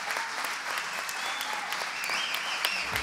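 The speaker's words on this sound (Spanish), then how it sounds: "Saludemos con un fuerte aplauso a los integrantes del ciclo Cronistas Barriales." A crowd applauds award recipients from the Cronistas Barriales program at the 2017 Premios Nuevas Miradas ceremony, with dense, steady clapping that fills the whole stretch at an even level.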